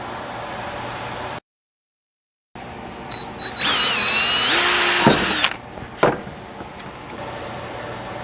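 A power drill bores a small hole in a piece of shop-scrap tubing for a homemade address sign post. A close, whining burst of about two seconds drops in pitch under load, then a clunk follows.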